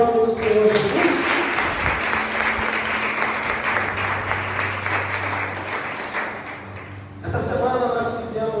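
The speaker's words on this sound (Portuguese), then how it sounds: "Então você pode aplaudir o nome do Senhor Jesus?" Church congregation applauding at an evening service, steady sustained clapping from a crowd that fills most of the clip before fading out, with someone speaking briefly at the start and again at the end.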